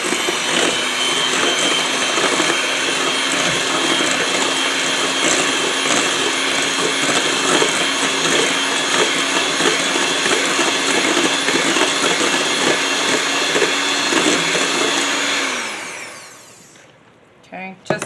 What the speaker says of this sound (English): I'm going to blend the butter and the sugar together